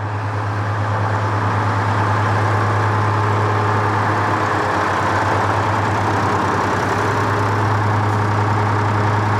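A truck with a Detroit diesel engine idling nearby, a loud, steady low rumble with an even throb that holds without change.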